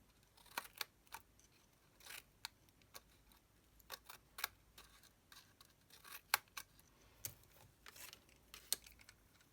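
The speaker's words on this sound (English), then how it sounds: "So they're sort of joined together, so I'm going to just snip them." Small scissors snip tiny joined card embellishments, giving a series of quiet, sharp clicks in irregular bursts close by against a faint hush, with no voices.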